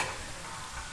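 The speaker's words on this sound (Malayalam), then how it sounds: "നമ്മുടെ സാധനം അങ്ങനെ തിളച്ച് വരുന്നുണ്ട് അല്ലേ" Coconut milk bubbles and sizzles in a pan while being cooked down for virgin coconut oil, a soft, close, steady crackle with no talk over it.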